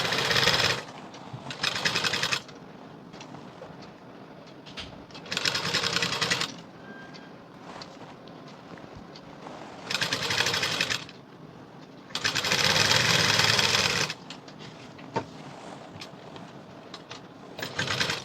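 A sewing machine stitches a 36-inch high neck blouse in four loud, steady bursts. Quieter gaps between the runs carry a low background hum.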